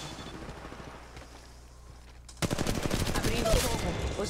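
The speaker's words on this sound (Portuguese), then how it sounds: "Estou atirando e me acertando" Sudden bursts of rapid automatic gunfire in Apex Legends Mobile break out after a quiet stretch, loud and sustained, with sharp repeated shots layered over each other.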